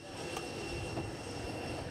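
Multipurpose airplane on the tarmac, a steady engine drone and whine holding at a constant level, moderately distant, with no voices.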